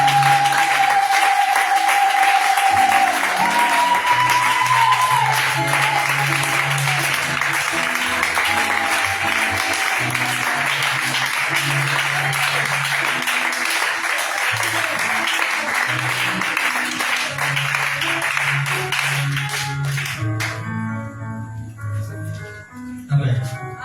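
A church congregation applauding and cheering for Jesus, sustained loud clapping and crowd noise for about twenty seconds with voices calling out over it, fading at the end.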